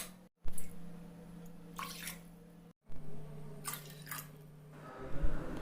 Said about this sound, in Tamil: இதில் 5 கப் அளவு தண்ணி சேர்த்துக்கோங்க.